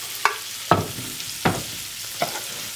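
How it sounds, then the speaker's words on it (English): Finely diced garlic cloves and yellow onion browning in a pan, with four distinct spoon-scrape stirs spaced across a soft, continuous sizzle. "we're going to brown these and then add our beef back to the pan"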